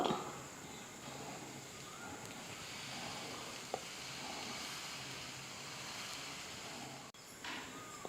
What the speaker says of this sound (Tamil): தோசைக்கல்லில் வந்து நல்லா சூடு ஏறிடுச்சு இப்போ தோசை ஊற்றிக்கலாம்